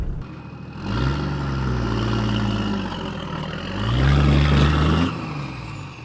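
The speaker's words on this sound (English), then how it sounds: "You just have to get on the throttle." A 4x4 with a locker, crawling over rough off-road terrain with a wheel lifting, has its engine revved hard twice in long surges. The deep roar climbs and falls close to the mic.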